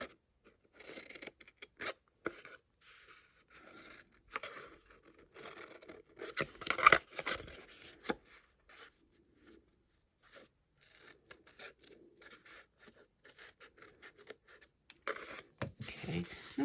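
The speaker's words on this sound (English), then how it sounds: "Okay, I'm just going to cut a little bit of this off." Scissors cut through craft material in short, quiet snips and rustles spread across the stretch, with small handling noises and brief pauses between cuts, all heard close and faint.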